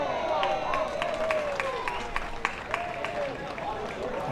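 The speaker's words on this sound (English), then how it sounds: "by the crowd reaction, that one must have been caught by a fan" A baseball crowd at an Elmira Pioneers versus Jamestown Tarp Skunks game reacts to a fan catching a foul ball, giving a distant murmur with scattered cheers and claps under faint whistling tones.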